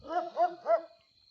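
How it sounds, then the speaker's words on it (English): Three barks from nearby dogs in quick succession, each with a clear harmonic yelp, followed by a faint trailing whine and then quiet. "Oh, hey, dogs."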